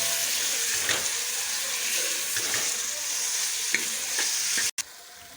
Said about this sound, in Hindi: अब बीफ कीमा डाल लेंगे आधा किलो। अब कीमे को अच्छी तरह से भून लेंगे।